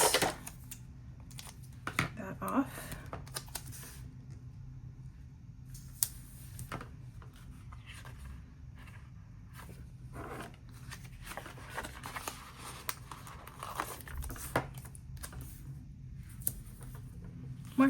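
Scissors cutting a leaf shape out of a paper sticker, a faint, close run of small snips and paper rustles spread across the stretch over a quiet background.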